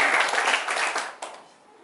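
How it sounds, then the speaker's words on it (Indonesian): Audience applause at a corporate motivational talk, a dense burst of clapping that fades quickly to quiet within about two seconds. "Tepuk tangan dulu."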